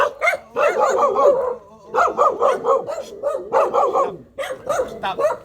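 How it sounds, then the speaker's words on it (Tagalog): A dog barks repeatedly at a visitor, loud and close, in quick bursts of sharp barks and yips with a few short pauses between volleys. "Tinahulan ba naman ang aking bisita?"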